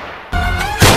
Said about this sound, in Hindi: इसने चलाई गोली